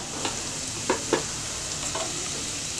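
Mutton and ginger-garlic paste are sautéing in a pan for white kurma. A continuous soft sizzle carries on underneath while a spoon scrapes and stirs in a few brief strokes.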